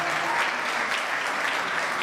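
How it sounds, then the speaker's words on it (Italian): Steady, dense applause from a concert audience at an Italian singer's show, a continuous wash of many hands clapping throughout, moderately loud and even. "qui vogliamo ancora più applausi"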